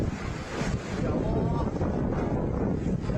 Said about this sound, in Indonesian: Suara gemuruh terdengar dalam rekaman kamera ponsel warga saat angin puting beliung menerjang Desa Loireng